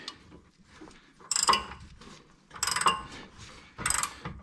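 A ratchet tool tightens a part down on a 6th-generation Ford Taurus, giving three separate bursts of rapid clicking at close range, each lasting about a second, with quiet gaps between them.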